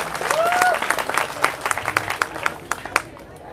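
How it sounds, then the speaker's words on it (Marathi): A crowd at a protest meeting in Nashik bursts into applause, dense clapping that thins into scattered claps and fades out, with a brief voice rising over it early on. "टाळ्या वाजवा"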